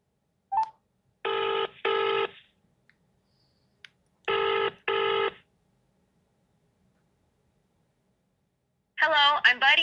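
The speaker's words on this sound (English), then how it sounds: "I'm just gonna grab my phone and place a new call to our dog buddy." A phone rings back while a call is being placed, giving two pairs of clear electronic double rings separated by pauses, with a voice starting at the end.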